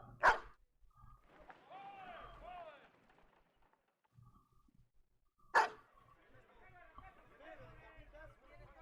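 A dog in Battle Brothers gives two sharp barks about five seconds apart, with a quieter, murmuring layer of voices and game sound between them.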